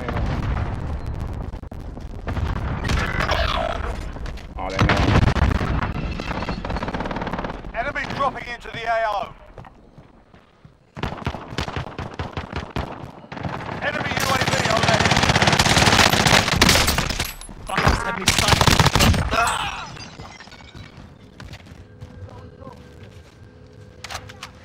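Automatic weapon fire from an SMG in Call of Duty Warzone on Rebirth Island, with loud rapid bursts and sharp shots that come and go across the clip over in-game effects.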